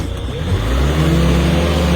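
A car engine revs up and holds a loud, rising drone as the vehicle is being pulled out, close and strong with a rough low rumble underneath.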